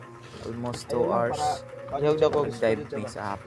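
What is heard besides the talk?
birds singing in nature, dove cooing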